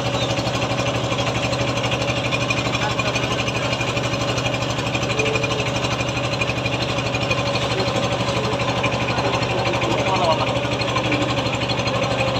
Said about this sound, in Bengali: একটি ট্রলার আমাদের পাশ দিয়ে চলে যাচ্ছে।